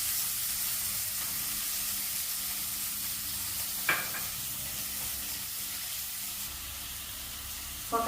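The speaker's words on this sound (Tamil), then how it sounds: "சோம்பு போட்டுட்டு வெங்காயம் சோம்பு கொஞ்சம் பொரியவே போட்டுறாங்க" Fennel seeds and onion sizzle in a pan with a quiet, steady frying hiss, broken by a sharp clink midway and another knock at the end.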